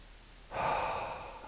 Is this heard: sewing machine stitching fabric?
no